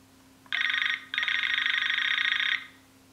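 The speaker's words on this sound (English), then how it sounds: "let's move to the ringing type." A Nokia Cityman 150 NMT mobile phone plays its standard ringtone: two bursts of bright electronic trilling, a short one then a longer sustained one, loud and close, with no talk over it.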